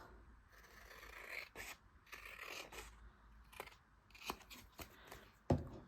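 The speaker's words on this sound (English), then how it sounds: "these scissors, and I'm just going to trim this off." Repeated crisp snips of scissors cutting through paper, with rustling and scraping between cuts and a sharper snap near the end.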